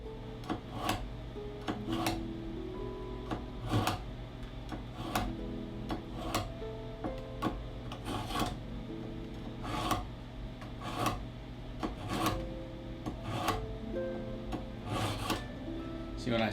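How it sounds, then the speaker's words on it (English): Kitchen knife drawn repeatedly through a knife sharpener in a home kitchen, a steady series of close, rhythmic raspy scrapes and ticks recurring roughly every second, with faint background room noise. "I just take it and run it through the my knife sharpener here"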